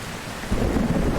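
Thunderstorm in the video game Skyrim, a steady roar of heavy rain and wind with a deep rumble of thunder swelling in partway through, loud and continuous with no voices.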